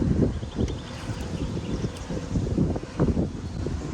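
Wind blows across an open golf course at Rochefort and buffets the microphone in low, uneven rumbling gusts. It stays moderately loud for the whole stretch, with no voices.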